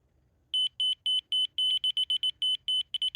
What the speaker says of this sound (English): slow beeps means it's too low